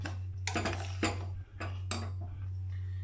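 Metal spoon scraping and clinking against a pot in repeated stirring strokes, close by, mixing jaggery into broken wheat kheer, over a steady low hum.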